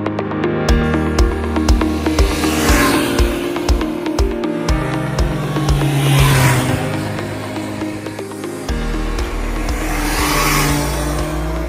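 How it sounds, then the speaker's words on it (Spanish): A Triumph Daytona 660 sport motorcycle engine runs loud and close throughout, revving and pulling through gears with rising and falling pitch and brief drops between shifts. "ya estamos encima de esta nueva Triumph Daytona 660"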